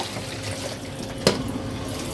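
Tap water runs steadily over boiled eggs in a kitchen sink before peeling, a continuous close splash with one brief louder clunk partway through.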